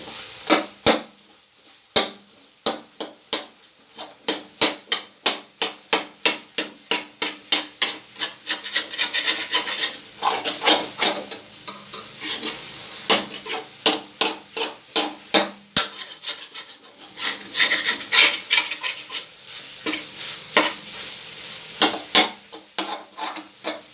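A spoon scrapes and stirs suji (semolina) halwa roasting in a pan over a low flame, giving a long run of close, rhythmic scraping strokes, sometimes quick and dense, sometimes sparse, with no talking.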